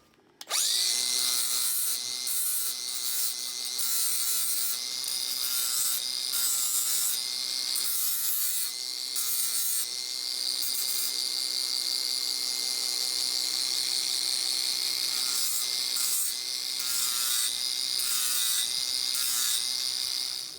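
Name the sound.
removing paint from a steel miter stand bracket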